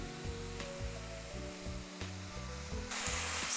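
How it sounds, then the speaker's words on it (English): Ground beef sizzling in a pan as it is broken up for baked beef tacos, a continuous moderate frying hiss with occasional scraping clicks and a low music bed, rising louder near the end. "Just break up the ground beef as it cooks."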